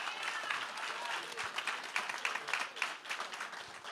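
An audience at a community partnership breakfast claps together in a sustained, fairly distant wash of applause, thinning slightly toward the end, with faint crowd voices underneath.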